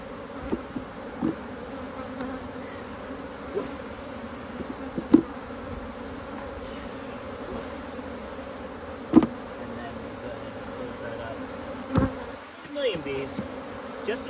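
Honey bees shaken into a nuc hive fill the air with a steady, close, droning buzz. It keeps going for many seconds, broken by occasional knocks and thumps of the equipment.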